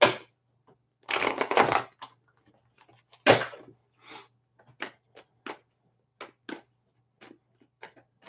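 Tarot cards being shuffled for a reading, close and fairly quiet: a couple of longer riffling bursts followed by a string of soft, scattered taps and slaps as the deck is handled.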